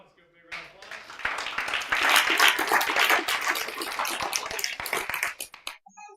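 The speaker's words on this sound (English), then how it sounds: "round of applause" Audience applause at a church mission presentation, a crowd clapping steadily for several seconds with bright dense claps swelling then tapering off.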